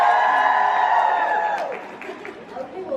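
A convention crowd at BookCon in New York cheers, whoops and claps in response to a show-of-hands vote for Lord of the Rings, a loud, dense burst that thins out after a second and a half.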